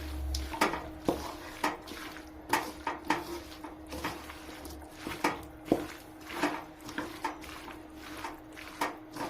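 Mango pickle with added salt and chili powder stirred in a pot, a run of quiet, regular clinks and scrapes of a spoon against the vessel, close but soft, with no talk.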